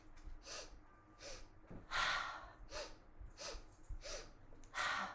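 Deep breathing exercise: a series of big, audible inhales and exhales repeated in an even rhythm, close and fairly quiet, with no talking.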